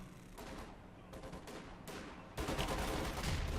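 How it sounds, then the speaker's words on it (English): Small-arms fire from a vehicle crew in the Company of Heroes 2 World War II strategy game, aimed at a Panzer: dense, continuous gunfire that swells louder toward the end, mixed with battlefield noise. "the vehicle crew trying to get a few shots off on the Panzer Fuse"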